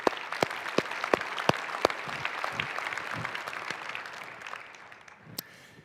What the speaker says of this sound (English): I think that deserves a round of applause for our finance team.